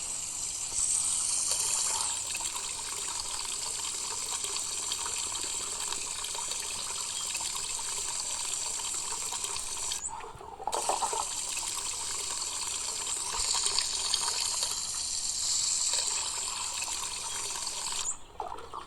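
Water pours and splashes steadily in the Hello Neighbor video game, a continuous gushing stream with two short breaks before it resumes, loud and close with no talking.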